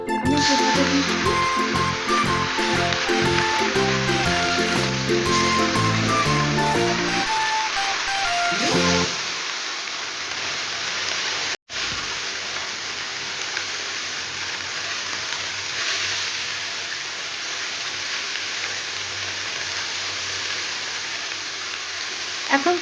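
Small fish frying in hot oil for Bengali chorchori, a steady dense sizzle that carries on alone after a brief stretch of music, with one short dropout midway.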